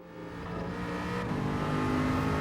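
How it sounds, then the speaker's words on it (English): An Aston Martin Vantage race car in the Gran Turismo video game drones steadily as it accelerates through a lap, its engine tone rising under an even whir. "I just went with this Aston Martin Vantage here. So I will show you guys a lap around here"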